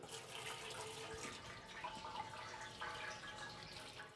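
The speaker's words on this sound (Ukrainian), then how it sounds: "наливаємо нашої води" Water pours steadily into an autoclave while mulled wine is being prepared, giving a close, continuous splashing wash for about four seconds with no voices.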